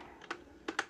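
Quick, light keystrokes on a computer keyboard as code is typed, three soft clicks close together over a faint room hiss.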